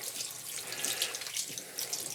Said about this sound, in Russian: Теперь вот у меня теплая вода, я, короче, здесь все это промываю.